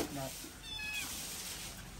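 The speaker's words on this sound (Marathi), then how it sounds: "आधी आपल्याला मांजर." A domestic cat meows once at close range in a rural household on a rainy day, a short rising cry with people talking nearby.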